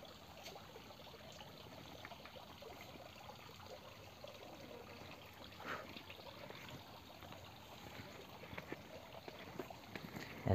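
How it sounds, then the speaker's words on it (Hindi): Water trickles and flows steadily in a stream at Rao Jodha Desert Rock Park in Jodhpur, a faint, continuous babble with small splashy accents and no talking. "इधर कहीं से तो पानी का साउंड आ रहा है"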